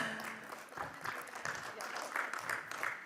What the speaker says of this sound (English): Let's give Shubha a warm round of applause.